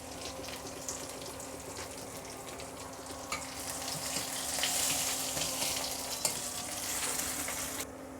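Bay leaf, crushed garlic, green chillies and a dried chilli frying in hot oil, a steady close hiss and crackle that swells midway with spits and stirring, no talk.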